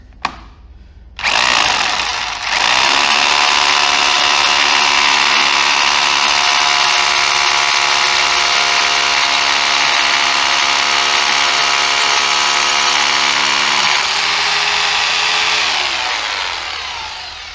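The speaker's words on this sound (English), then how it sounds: "So that's a 10 millimeter hole we'll be drilling" A power drill spins up after a short click and whines continuously at high speed for a long stretch, boring a 10 millimeter hole into the ground for a floor anchor, loud and close, slowing slightly near the end.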